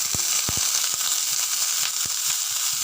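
Garlic and mustard frying in hot oil: a bright continuous hiss with sharp pops and crackles bursting at irregular moments.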